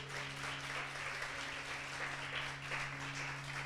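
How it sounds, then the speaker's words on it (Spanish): A church congregation applauding during a service, a dense, sustained wash of clapping throughout. "Denle un aplauso al Señor."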